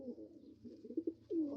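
Pigeons coo softly in a short, faint burst of low rolling calls, rising to a fuller coo near the end, heard near a newly built pen for young birds.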